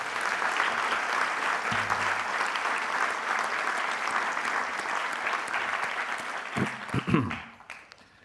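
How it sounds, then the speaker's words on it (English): Sustained applause from a sizeable audience, steady and dense for several seconds, then tapering off as a few voices and a last claps come through. "I think we can give ourselves a round of applause."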